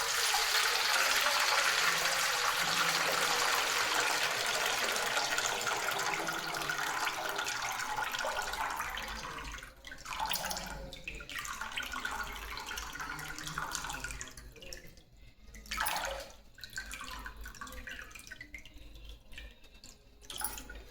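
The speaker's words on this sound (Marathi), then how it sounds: "आता हे पाणी मेच्यातला काढून टाकते" Soaking water is poured off a bowl of sago pearls in a dim kitchen, a steady splashing stream that thins into scattered trickles and drips.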